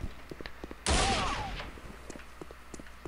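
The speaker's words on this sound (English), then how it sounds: "a lot of times the enemies will just kind of stand there and shoot at you" Enemy gunfire in the old game Counter-Strike: Condition Zero erupts as a sudden loud burst of overlapping shots lasting about half a second, its echo fading away, with quieter game noises scattered around it.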